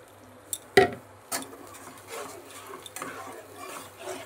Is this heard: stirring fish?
yes